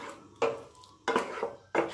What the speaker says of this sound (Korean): 남은 양념에 떡을 잘 넣어 섞어주세요.